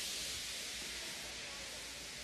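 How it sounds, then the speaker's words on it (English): A steam locomotive feebly lets off steam, a steady, soft broadband hiss running unbroken throughout with no talk over it. "He just let off steam feebly."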